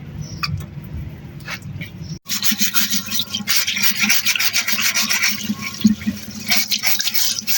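Dusty fan grilles get scrubbed with water, giving a continuous wet rubbing and rasping, close and fairly loud, with a quieter splashy stretch before a short break and then steady scrubbing.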